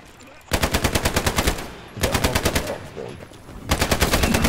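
Close machine-gun fire in the video game Hell Let Loose comes in three rapid bursts of evenly spaced shots, separated by short pauses.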